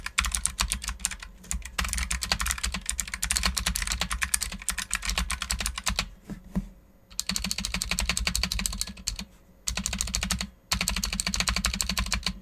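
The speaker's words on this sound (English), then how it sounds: "Honestly, not the best sounding clicky keys I've ever heard in my life" Fast, continuous typing on a Razer Huntsman Mini keyboard with clicky purple switches, sharp crisp clicks in quick dense bursts with a few short pauses, loud and close.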